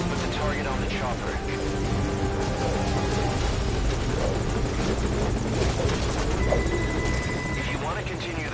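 A helicopter in the video game Metal Gear Solid V: Ground Zeroes gives off a loud, steady rotor drone with a buzzing whine. Game voices are heard over it.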